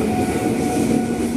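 A JR 205 series electric commuter train departs Kramat station in Jakarta, rumbling and humming steadily close by, with a sustained motor whine over rolling rail noise.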